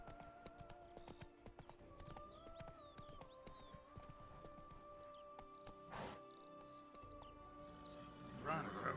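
Roach the horse gallops in The Witcher 3, a steady clip-clop of hooves running under sustained music and game ambience, with a brief louder burst near the end.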